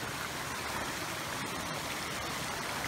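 A mountain stream along a hiking trail rushes in a continuous, even wash of flowing water, moderately loud and close, with no voices.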